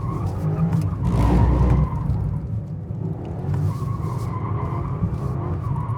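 BMW M5 in four-wheel-drive sport mode with stability control off, tires skidding and scrubbing under a loud rumbling engine, a heavy surge early then sustained drone, close-up from inside the car.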